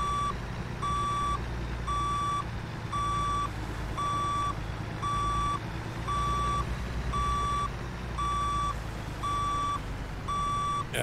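Reversing alarm of a Scot A2HD vintage truck in American Truck Simulator, a steady run of about a dozen evenly spaced loud beeps over a low idling engine rumble, with no voices.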